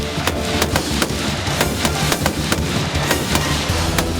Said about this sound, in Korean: 사격 자세를 갖추고 목표물을 향해 총을 발사하는데요